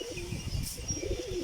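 A Mukshi pigeon coos in low, soft, throaty pulses close by, with faint higher chirps from other birds in the loft behind it.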